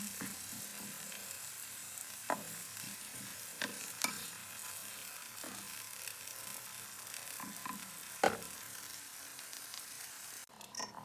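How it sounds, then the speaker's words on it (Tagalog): Garlic, onion and tomato sauté in a pan for ginisang monggo with pork, giving a quiet, steady sizzle with occasional spatula scrapes and taps against the pan. "Igisa na natin yung bawang sibuyas, kamatis."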